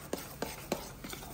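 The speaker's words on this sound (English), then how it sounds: "Stir in the sugar." A spoon stirs thick banana bread batter with sugar mixed in, making four soft, evenly spaced scraping strokes at close range.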